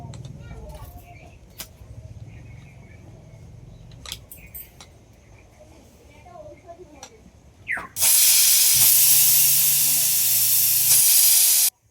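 A pressure cooker on a stove, cooking peas and chicken for ghugni, bursts into a loud, steady steam hiss and whistle lasting several seconds, after quieter kitchen sounds and faint talk in the background.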